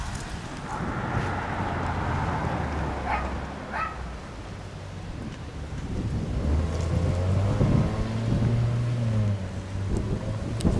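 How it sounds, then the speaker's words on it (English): Wind gusts steadily outdoors beside a harbor-area post office, a continuous broadband rush with a low rumble, joined by a distant dog bark and a faint motorboat hum. "nice wind."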